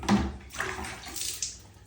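Warm bathwater splashes in short bursts, near and moderately loud, as a one-year-old baby boy is bathed. Three or four sloshing surges come with no talk.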